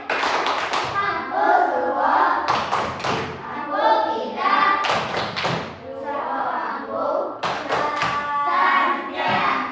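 A school class clapping hands in rhythmic bursts, several short rounds of sharp claps separated by pauses, close and loud, with children's voices mixed in.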